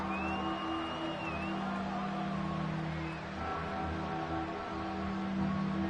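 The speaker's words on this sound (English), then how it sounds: "the faithful in full roar here in Santa Clara" A stadium crowd at a football game in Santa Clara roars continuously, a dense, far-off wash of cheering and shouting with scattered whistles, sustained at a steady level.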